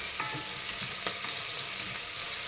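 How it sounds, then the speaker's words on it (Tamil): Crushed garlic for a rice-and-lentil lunch dish sautés in a pan with a steady, bright sizzle, punctuated by a few light stirring scrapes, close up and continuous. "இந்த பூண்டோட பச்சை வாடை கொஞ்சம் போகட்டும் அது வரைக்கும் ஒரு ரெண்டு நிமிஷத்துக்கு நல்லா வதக்கி விடுங்க"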